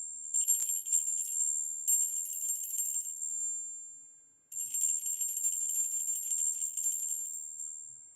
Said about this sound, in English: That, my friend, is a cool bell.